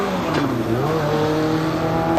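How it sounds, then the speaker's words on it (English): Legend race cars roll onto the speedway at a 1998 Columbus Motor Speedway fall event. Several engines hum and rise in pitch together at close range, a loud steady mechanical drone with no speech over it. "The 3rd Legend Car Heat Race now rolling on to the Speedway."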